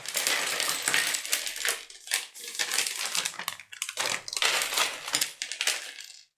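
Loose plastic LEGO pieces for the Lamborghini Revuelto set 42214 rattle and clatter as they are handled, in close, dense bursts of clicks with brief pauses between them.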